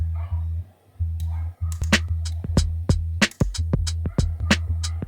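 Electric guitar pitched down and run through a wah pedal to act as a bass line, heard dry without its extra effects: a steady low, thick tone pulsing under sharp percussive clicks and hits in a repeating rhythm.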